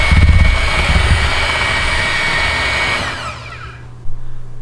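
Electric mixer whirring steadily as it beats butterscotch bar batter in a bowl, a loud even motor drone that winds down and stops near the end, followed by a brief knock.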